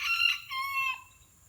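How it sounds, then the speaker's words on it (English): A rooster crows in one long, loud, drawn-out call with a rising start and a fading tail, heard alone with no talk. "Shut up, bird."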